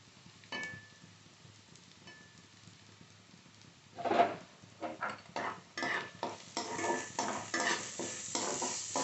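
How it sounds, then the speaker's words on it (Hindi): Onion and chopped ginger frying in a pan for a makhana curry, a soft sizzle with scattered spatula stirs that grow louder and busier in the second half, close by with no talking. "हम 1 से 2 मिनट और भूनेंगे ताकि हमारी प्याज थोड़ी ब्राउन हो जाए।"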